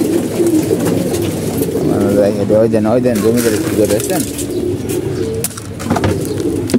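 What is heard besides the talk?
pigeons cooing while feeding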